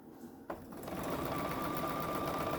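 A sewing machine stitches a half-inch French seam on a cotton pillowcase, starting after a brief click and settling into a steady, close, continuous whir with no speech.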